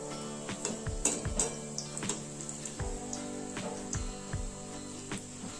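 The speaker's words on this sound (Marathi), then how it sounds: "याला चांगले लालसर होईपर्यंत, आपले शिजेपर्यंत हे पकोडे मी तळून घेणार आहे" Pakoras for kadhi pakora frying in hot oil, a steady soft sizzle under frequent clinks and scrapes of a utensil against the pan, close and fairly quiet.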